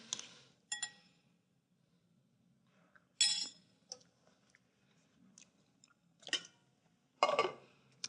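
Beets stirred with juniper and salt in a bowl, giving several separate scraping, clinking strikes against the bowl spread across a quiet stretch, close and fairly crisp with short pauses between.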